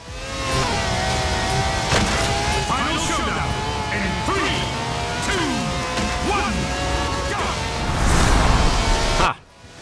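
A car in Forza Horizon 4 accelerates hard, its engine note climbing through repeated rising sweeps as gears change, loud and sustained until it cuts off abruptly; someone talks over it.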